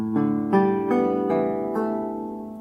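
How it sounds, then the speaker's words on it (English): A theorbo's open strings in re-entrant tuning are plucked one after another, six resonant ringing notes at an even pace, the pitch stepping unexpectedly where the top strings drop an octave, close and clear with no talking. "And that is what is unique about the Theorbo, this re-entrant tuning."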